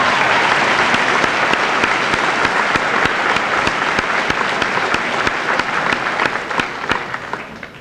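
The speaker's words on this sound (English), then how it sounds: "let's give these students another nice round of applause." A school assembly audience applauds students at a senior assembly, a steady wash of many hands clapping throughout, with a few sharper claps standing out before it fades slightly at the end.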